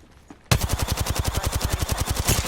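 Rapid automatic gunfire in a video game erupts after a brief quiet moment and continues as a steady, loud burst of evenly spaced shots.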